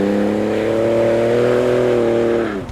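Modified 2017 Ford Raptor truck fitted with an aFe intake and exhaust, its engine held at a loud, steady deep rumbling rev close by, rising slightly in pitch, then dropping off near the end.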